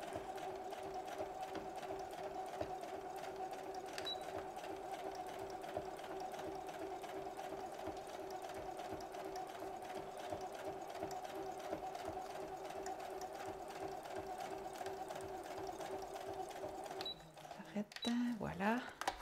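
A sewing machine stitches recycled fabric for a belt bag, with a steady, fast mechanical hum and rapid needle rhythm that is moderately faint and runs continuously before stopping near the end with a few handling noises.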